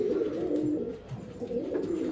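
A male pigeon offered for sale coos close by, a low throaty rolling call repeated in two soft swells over a faint background hum.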